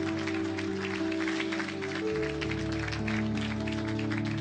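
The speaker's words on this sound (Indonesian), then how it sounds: "Berikan tepuk tangan yang meriah buat Tuhan" A church congregation claps at length during a sermon, the dense, steady patter of many hands running through the whole stretch under sustained music or organ tones.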